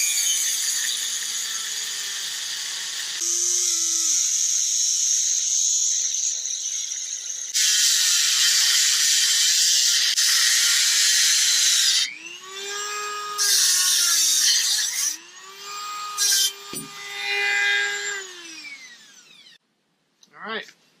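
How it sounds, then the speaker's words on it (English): A Dremel rotary tool cutting metal on a Jeep, a shrill high-pitched whine running in long loud bursts with pauses between, the pitch dipping and rising as the cutting wheel loads and frees up. "So I'm actually just going to cut this off, and then I'm going to grind it smooth. For that, I'm actually going to use my Dremel instead of the angle grinder."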